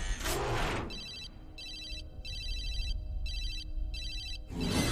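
A cell phone ringtone rings in a Transformers: Animated cartoon scene, a bright electronic trill repeating in five even bursts, loud and clear with short gaps, over low background noise.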